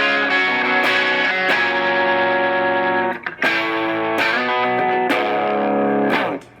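Overdriven electric guitar through an EarthQuaker Devices Plumes overdrive pedal plays sustained, gritty chords with a few brief pauses and restrikes, loud and alone.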